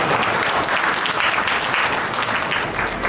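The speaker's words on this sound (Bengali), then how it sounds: "আপনারা হাততালি দিয়ে তাদেরকে বরণ করে দিতে পারেন।" Guests clap to welcome a newly married couple at a wedding, a dense, even burst of applause that holds steady for a few seconds without talk.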